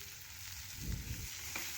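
Chopped tomato and onion frying in a pan, a steady soft sizzle with a couple of louder bursts where the mix is stirred, heard alone at close range.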